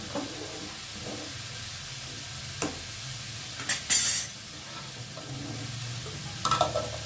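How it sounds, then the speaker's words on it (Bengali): A utensil stirs rice in a cooking pot on the stove in a home kitchen, soft scraping strokes over a low simmering hiss, with a few louder clinks and scrapes against the pot. "ভাতটা একটু নেড়ে নিয়ে"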